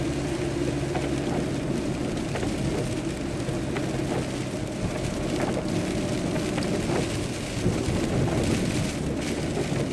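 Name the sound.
rain and thunder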